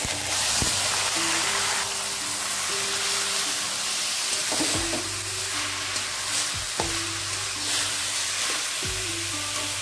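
Grated bottle gourd fries with ground spices and ginger paste in a pan for a lau ghonto, giving a steady sizzle. Periodic thumps and scrapes come from stirring, and a faint tonal background runs beneath, with no talking.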